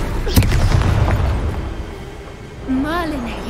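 Spell blasts and explosions from the Hogwarts Legacy video game, with a loud rumbling boom at the start and crackling bursts, followed by a voice and a rising magical whoosh near the end.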